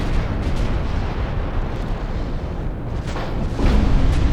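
Heavy naval guns roar from a battleship under fire in a warship game, a dense continuous rumble of blasts and explosions with a louder boom near the end.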